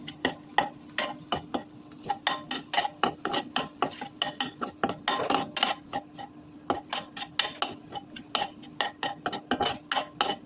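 Garlic frying in melted butter in a pan gives a soft sizzle, punctuated by frequent sharp clicks and scrapes of a utensil stirring against the pan, close and fairly quiet with no talking.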